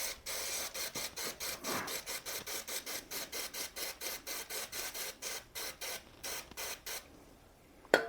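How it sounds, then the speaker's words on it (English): Brake cleaner hissing from an aerosol can onto a Shimano bicycle rear derailleur silent clutch, a series of short, close, rhythmic spray bursts that stop near the end, followed by a quiet pause and one sharp click. "the quick and dirty way to do that is to use the brake cleaner"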